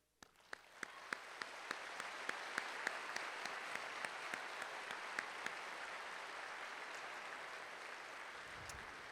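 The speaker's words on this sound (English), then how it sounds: "I know we'll clap quite a bit through all this" Audience applause at a police recruit class graduation ceremony, a broad sustained wash of clapping that builds quickly and holds steady, with a few sharper individual claps standing out nearby.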